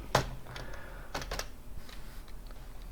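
Computer keyboard clicking as code is typed, a few soft scattered keystrokes close by in a quiet room.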